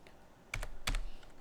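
A few quick bursts of typing on a computer keyboard, taps clustered in two short close-up volleys.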